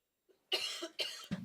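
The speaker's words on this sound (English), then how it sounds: "I've got a bit of a cough." A man coughs several times in quick succession, close and fairly dry, three short harsh bursts after a small throat sound, with no talk over them.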